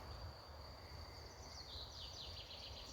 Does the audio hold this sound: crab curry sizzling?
no